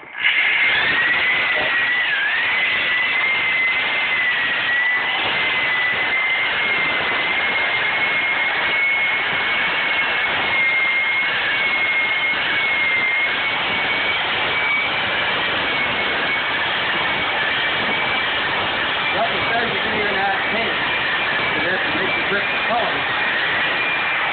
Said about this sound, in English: on your drill, you just got a little paint mixer on your drill